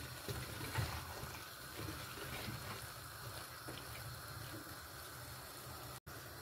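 Water pours steadily into a cooking pot of potatoes and minced meat for aloo keema, a continuous faint splashing flow lasting several seconds with no talking.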